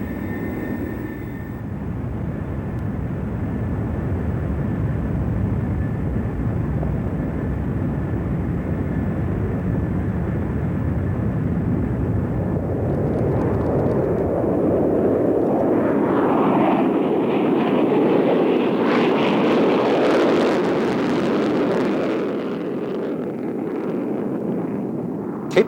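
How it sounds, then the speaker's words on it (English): An F-111 Aardvark bomber jet roars past, a sustained broadband engine rush that swells and brightens toward the middle before easing slightly, with wind buffeting the microphone throughout. "It was the F-111 Aardvark bomber."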